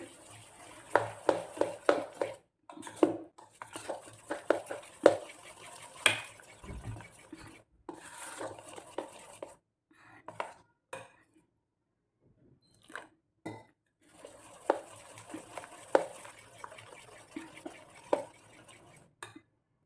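Bread pakoda batter seasoned with salt being stirred in a bowl, giving repeated close, wet slapping and scraping strokes in bursts with short pauses between.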